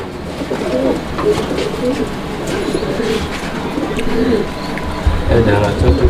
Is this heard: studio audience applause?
no